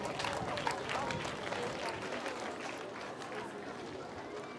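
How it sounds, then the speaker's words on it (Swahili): A crowd at a Day of the African Child celebration in Makueni County claps for schoolchildren, a dense, sustained applause with cheering and chatter mixed in throughout. "Tuwapigie makofi watoto."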